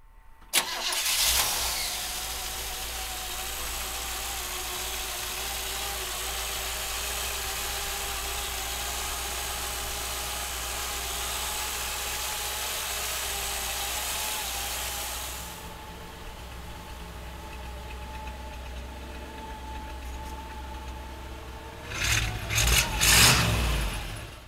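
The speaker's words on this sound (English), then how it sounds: "We're gonna open up the hood, fire up the motor." A 1957 Chevrolet Bel Air engine cranks and catches, then settles into a steady, rumbling idle for a long stretch, dropping in tone partway through before a final burst of louder revving and clatter near the end.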